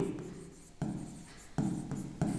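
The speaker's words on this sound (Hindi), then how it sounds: "तो यहां पे मैं लिख सकता हूं" Handwriting with a pen or marker on a surface makes soft, scratchy strokes close by, in short bursts roughly every second with brief pauses between words.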